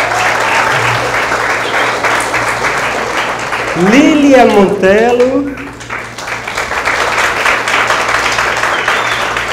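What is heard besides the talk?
audience applause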